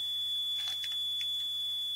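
A Karl Fischer moisture titration apparatus signals its endpoint with a steady high electronic buzzer tone, accompanied by a few faint clicks.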